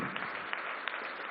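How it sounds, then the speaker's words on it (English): A conference audience at the India Today Conclave 2015 claps in a short, dense burst of applause, steady and fairly faint. "Round of applause,"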